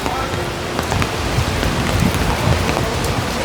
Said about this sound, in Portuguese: Debaixo de chuva